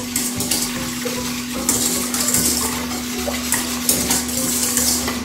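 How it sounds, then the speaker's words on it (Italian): Lemon zest and sugar stirred in a pot, a steady scraping and clinking of utensil against metal with an irregular rhythm, close and moderately loud, with no voices. "Quindi mescolo bene"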